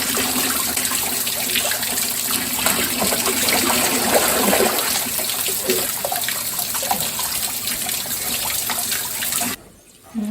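Water poured from a tabo over a child during a bath, a steady splashing and trickling stream running continuously for about nine seconds before cutting off abruptly.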